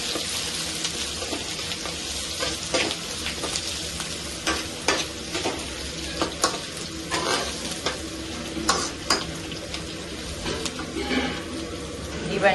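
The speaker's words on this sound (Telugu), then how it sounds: "ఇవి ఫ్రై చేసుకుందాం ఇప్పుడు." Chopped green chilies and onions fry in a hot pan, a steady sizzle broken by repeated scraping stirs of a spoon against the metal, close and continuous.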